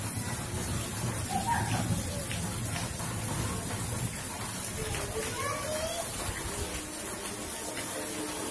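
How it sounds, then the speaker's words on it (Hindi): An evening rainstorm with strong winds in Churu makes a steady, broad wash of falling rain throughout, with a voice talking over it. "आज शाम तेज हवाओं के साथ हुई बारिश से मौसम सुहाना हो गया।"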